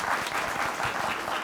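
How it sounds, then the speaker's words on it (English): A studio audience claps on a GTV quiz show, a brief, fairly faint burst of applause with no voices over it. "Applause!"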